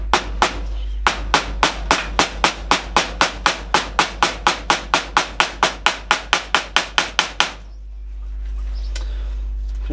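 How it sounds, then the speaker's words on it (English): A hammer strikes repeatedly on the flat of a hub nut cap on a Classic Mini front hub, about thirty sharp, evenly spaced metallic blows over several seconds. The blows stop abruptly, leaving a low steady hum. "taking the hammer and then on the flat section of the nut"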